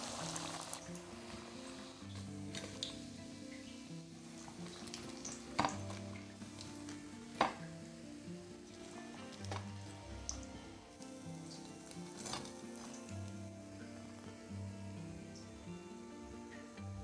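Chicken cutlets sizzle in a pan of hot oil, a quiet continuous crackle scattered with sharp pops and spits, with no voices.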